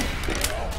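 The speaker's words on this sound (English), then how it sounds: "I'm reloading!" Mechanical clicking and ratcheting of a weapon being reloaded in a multiplayer shooter tournament match, a short dense burst of close metallic clatter lasting under a second over steady game noise.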